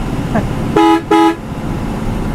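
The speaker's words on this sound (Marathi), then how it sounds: "मला वाटलं श्री स्वामी समर्थवाला पण हॉर्न मारेल" A travel bus horn sounds twice in quick succession on a journey from Borivali to Shiroda, two loud close blasts over continuous road rumble, with a faint fainter honk just before.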